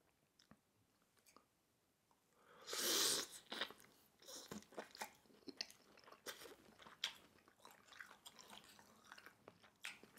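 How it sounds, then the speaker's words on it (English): Jumbo mussels in Cajun sauce are chewed close up, with wet, squelching bites, crunches and smacking spread unevenly across the stretch, one louder slurp near the start, and no talking. "I tried to chew and pronounce the word at the exact same time."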